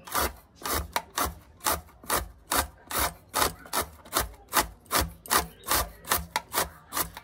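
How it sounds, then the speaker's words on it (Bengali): Carrots scraped against a grater give about twenty close, even, rhythmic rasping strokes that repeat steadily with no other sounds. "একটা গ্রেটার নিয়ে আমি এইভাবে গাজরগুলোকে গ্রেট করে নেব।"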